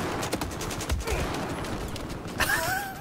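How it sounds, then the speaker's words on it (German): Dense, rapid automatic gunfire from an AK-12 rifle in the video game Battlefield 4, a steady rattling stream of shots with a brief sweeping whine near the end. "Dafür schießt die AK-12 viel zu langsam."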